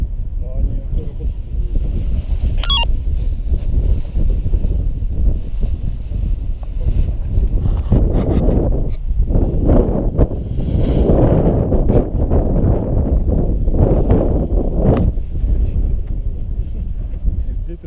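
Strong, gusty wind buffets the microphone near a lighthouse, a steady low roar rising in bursts, with people talking intermittently underneath.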